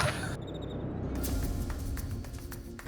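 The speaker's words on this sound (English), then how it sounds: "Crickets." Crickets chirp at night on an island in Belize, a faint, high, steady trill sitting under soft background noise and a few scattered ticks, with no voices.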